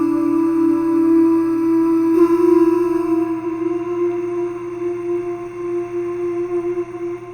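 A Spitfire Audio folk vocal library patch with its attack turned up holds a sustained, airy sung tone with layered harmonics. It stays steady and fairly loud, thinning slightly partway through, with no speech.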